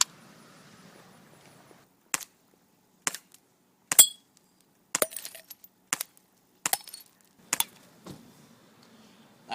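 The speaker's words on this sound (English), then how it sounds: "That glass bottle didn't stand a chance, now did it?" Glass bottle shattered by shots from an Umarex H&K MP5 K BB gun: a string of sharp cracks and clinks, several close together, each crisp and brief against near silence.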